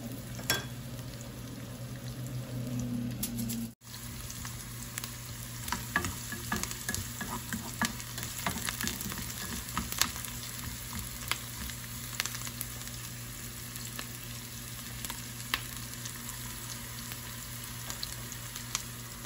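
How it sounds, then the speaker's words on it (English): Onions fry in a pan for chicken mandi, a steady close sizzle broken by scraping stirs and a brief clatter near the start. "Burn the onion a little bit until light brown."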